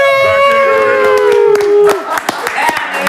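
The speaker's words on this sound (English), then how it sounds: "get your applause ready on this side of the couch" Studio audience on a basketball talk show greeting a guest with applause, cheers and shouts, loud and close, a sustained held tone over scattered claps and whoops.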